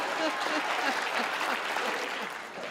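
Audience applause at a live Hindi comedy show, heard as a steady, dense wash of clapping from a crowd that runs through the whole moment, with a voice speaking over it.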